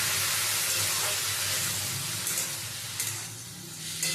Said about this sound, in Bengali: জল দিয়ে সমস্ত গুঁড়ো মশলার সাথে সবজিগুলো কষিয়ে নেব।